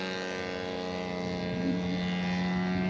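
Scale model aircraft making a slow flyby with gear down at an air show, a steady droning engine tone holding level and rising slightly as it passes at moderate distance, with no talk.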